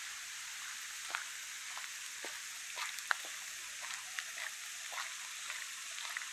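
Rain falling steadily in a village, a soft continuous hiss with scattered sharper drips and patters, fairly faint and heard alone without talk.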